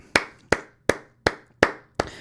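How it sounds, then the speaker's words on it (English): Six crisp, close hand claps land at an even, unhurried pace, with quiet gaps between them. "And so I just want to clap it up"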